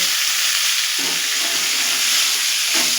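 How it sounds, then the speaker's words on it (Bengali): Onions tossed into hot oil in a pan sizzle and hiss loudly and continuously, with a burst of fresh crackling as they hit the oil and stirring sounds close up. "এর মধ্যে আমি পেঁয়াজ করি আর পেঁয়াজগুলো ছেড়ে দেবো"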